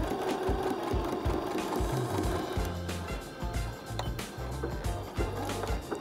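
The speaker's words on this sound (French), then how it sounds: "on coud à 1 cm" Sewing machine stitching a seam 1 cm from the fabric edge, a continuous close mechanical whirr with rhythmic needle clatter and slight speed changes throughout.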